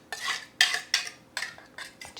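Salad leaves get tossed with dressing in a bowl, each turn giving a brisk scraping rustle of utensils against the bowl, five or six close strokes in quick uneven rhythm with no one talking.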